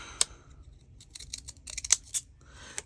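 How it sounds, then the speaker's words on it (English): Ripple scissors snip through stamps in a few crisp, quiet cuts with small clicks, recorded close in a quiet room. "For that, I'm going to get my ripple scissors out."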